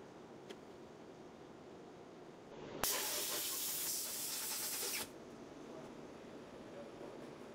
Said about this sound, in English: Phil allowed the parts to drain, then used compressed air to drive out any solvent traces and prepare the parts for final curing.